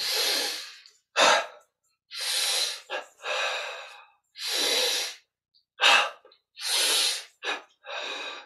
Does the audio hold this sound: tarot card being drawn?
no